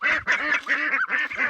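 Geese honking close by in a poultry yard among ducks, a continuous run of harsh, nasal calls overlapping one another with no pauses, loud and without voices.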